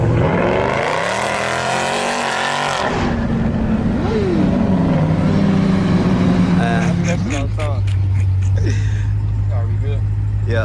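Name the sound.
2023 Dodge Durango Hellcat driving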